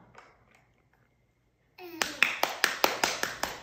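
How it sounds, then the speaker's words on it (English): Family members clap their hands for a small child at a Christmas visit, a sudden burst of sharp, evenly spaced claps close by after a quiet stretch. "everybody clap"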